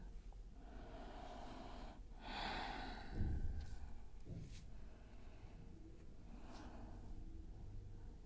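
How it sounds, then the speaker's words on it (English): Soft, steady breathing held through a yoga pose in a vinyasa class, faint and close, with a couple of slightly fuller inhales and exhales and no words spoken. "Breathing here."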